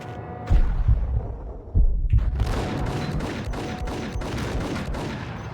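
Enemy gunfire in the action game Max Payne: two heavy shots with booming low thumps land about a second apart near the start. A dense, rattling stretch of further shots follows and continues to the end.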